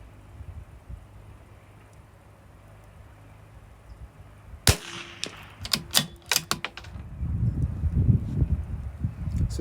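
Sharp rimfire reports from a CZ 457 rifle loaded with Wolf Match Extra ammunition, a handful of close, loud cracks in quick succession outdoors on a cool, breezy day, followed by steady wind rumble.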